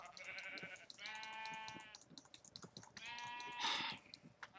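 Sheep in the Minecraft video game bleat in repeated drawn-out calls, several in a row with short gaps, fairly loud and close, with no talking over them.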